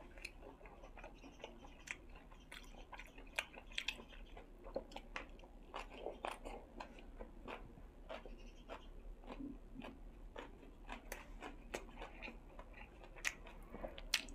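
Crunchy food being bitten and chewed at a Thai mukbang meal of som tam, grilled beef and fresh vegetables: a steady run of sharp, close, crisp crunches and clicks over a low hum, with no talking.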